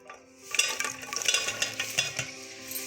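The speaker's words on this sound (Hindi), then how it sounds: "ये मैंने देगची में ऑयल डाला है, तो अब हम इसके अंदर प्याज डाल के ज़रा लाइट ब्राउन करेंगे" Onions frying in oil in a cooking pot, a soft continuous sizzle broken by clinks and scraping from stirring, fairly close and moderately quiet, with no talking.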